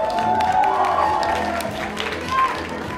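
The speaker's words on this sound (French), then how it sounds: "Est-ce qu'on peut tous applaudir Véronique qui m'emmène à l'école chaque jour" An audience applauds and cheers at a live talk event in France, a steady wash of clapping mixed with a sustained tone and some crowd noise.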